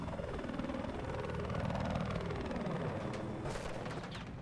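Helicopter in a Battlefield 4 conquest match, a loud steady rotor and engine roar filling the scene, with bursts of gunfire and a sharp swooshing pass near the end.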